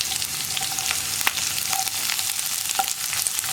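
Sliced onion frying in a pan with dried red chillies for a spinach and dal curry crackles and sizzles steadily at close range, with small sharp pops scattered throughout and no talking.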